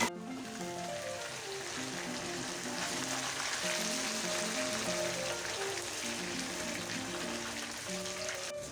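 Tomatoes sizzling as they go into onions fried golden in oil for a Karachi-style biryani, a soft continuous crackling hiss with faint tonal music in the background and no talking.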